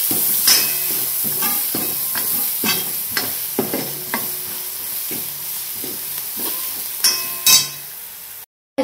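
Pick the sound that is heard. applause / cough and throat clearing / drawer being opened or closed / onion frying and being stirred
onion frying and being stirred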